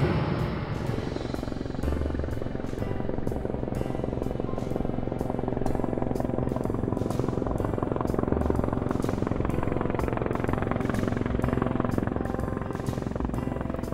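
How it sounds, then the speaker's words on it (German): A cartoon transport helicopter starts up, its rotor blades spinning in a steady rapid chop over a continuous engine whine, loud and close with no voices. "Gleich lassen sie den Motor an, die Rotorblätter fangen an zu drehen und der Hubschrauber startet."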